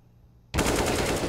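Rapid automatic gunfire in a Counter-Strike match on the Mirage map bursts in suddenly after a quiet moment, a loud, dense rattle of shots that continues to the end.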